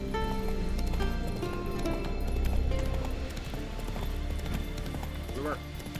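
Geralt's horse Roach gallops in The Witcher 3 video game, a steady rapid clip-clop of hooves running under game music and ambience, with voices talking over it.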